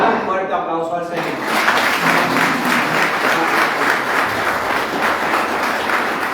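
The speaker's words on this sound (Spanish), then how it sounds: "Dale un fuerte aplauso al Señor." Sustained applause fills a church worship service, steady and dense after a voice at the start, many hands clapping together at moderate loudness.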